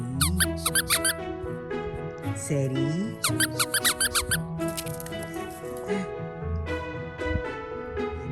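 A dog's squeaky toy squeaks repeatedly in quick bursts, loud and close, with a person talking over the squeaking.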